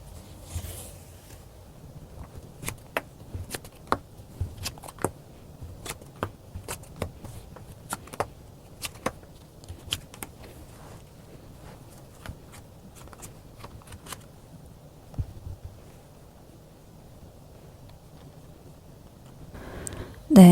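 Tarot cards being handled on a quiet table, with sharp, sparse snaps and flicks scattered irregularly over twenty seconds and soft rustling between them. No one speaks.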